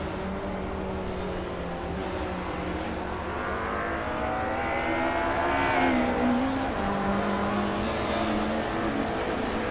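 Racing cars speeding around a track, engines droning with rising and falling whines as cars accelerate and pass, a continuous loud motor roar throughout.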